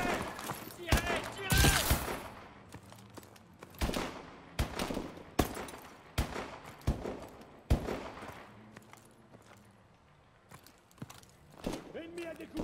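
Gunfire in the shooter game Call of Duty: Advanced Warfare, irregular sharp shots and short automatic bursts ringing out across the scene, some near and loud, others more distant, with a few voices calling out between them.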